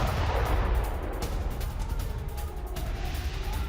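Explosions during an Israeli strike on Mashhad sound as a dull, booming rumble with several muffled thuds rolling through a few seconds of continuous low roar, distant and without voices.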